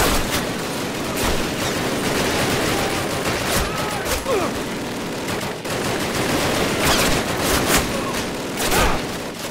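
Sustained bursts of automatic gunfire and scattered shots fill a Call of Duty battle scene, dense and loud throughout with short lulls, and a voice calls out briefly.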